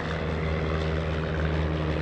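A Piper Cub L-Bird propeller airplane flies at a World War II weekend event, its engine giving a loud, steady droning buzz with a constant low tone and no voices over it.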